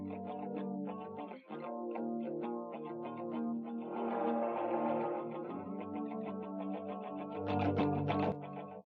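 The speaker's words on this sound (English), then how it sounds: "There you can hear the spring reverb." Electric guitar passes through the spring reverb of a Universal Audio Galaxy Tape Echo plugin, with sustained chords smearing into a wet, splashy wash and a brighter, louder flourish near the end.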